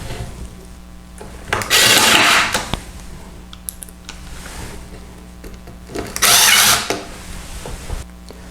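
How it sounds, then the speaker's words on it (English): Power drill driving screws into a wooden drawer guide, heard in two separate loud whirring bursts of about a second each, with quieter rustling and handling noises of the workpiece between them. "Now we're going to go ahead and get it screwed in the other side."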